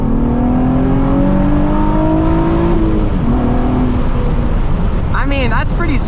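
A Nissan 350Z engine climbs steadily toward 6,800 RPM, its rising drone loud and close, then the pitch drops away and a voice speaks over the fading engine at the end.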